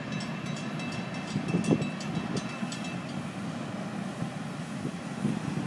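FEC freight train 202 rolls past as a steady, fairly quiet rumble with faint wheel clatter and brief metallic squeals, continuous throughout with no voices.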